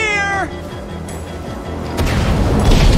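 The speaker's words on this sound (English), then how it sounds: "Ditembak pakai firework." A firework goes off in the Minecraft Story Mode video game with a sudden loud booming blast that rumbles on. Before it come warbling, meow-like tones and a quieter stretch.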